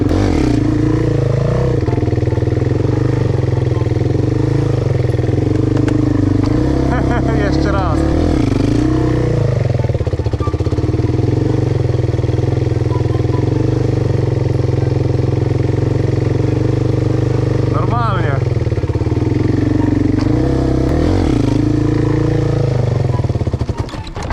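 A quad ATV engine idles and revs in repeated swells close by, rising and falling several times, while someone talks over it.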